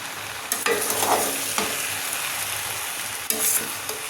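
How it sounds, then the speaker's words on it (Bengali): Sago pilaf being stirred in a pan, with a steady close scraping and sizzling and a few sharper utensil knocks against the pan, heard alone without talk. "এইভাবে ওপর মিক্স করে সাবুটাকে মিলিয়ে নেব।"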